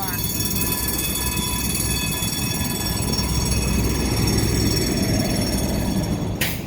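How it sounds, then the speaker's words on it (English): A New Orleans streetcar ride from on board: a loud, continuous rumble of wheels on track with high metallic squeals and whines running steadily throughout. "There is nothing like a New Orleans streetcar ride."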